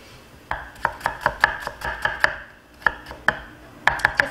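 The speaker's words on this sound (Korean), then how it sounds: "양파는 참치에도 들어가고 비네그레트에도 들어갑니다. 미리 다져서 소금 절임합니다." A knife chops onion on a cutting board for tuna tartare, sharp knocks in an uneven run after a short quiet start, pausing briefly midway before a final cluster of quick strokes, close and clear with no talk.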